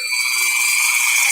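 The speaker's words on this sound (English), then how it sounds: "I guess you can't really push because these drill bits can break so easily" A tiny drill bit whines while drilling slowly into craft charm material, a close, loud, steady high-pitched buzz that holds for the whole moment with no talk.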